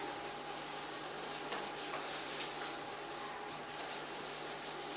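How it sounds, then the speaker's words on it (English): A board being rubbed clean in a classroom during a maths lesson, a steady continuous scrubbing that runs the whole time, fairly close and with no talking over it. "Can I rub the board?"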